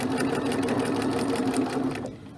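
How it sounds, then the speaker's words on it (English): A sewing machine topstitches along an apron strap, a fast, steady, close rattling hum running continuously before stopping abruptly near the end, with no speech. "I want to top stitch on this side of my strap, so I don't want it to accidentally get caught in my stitching."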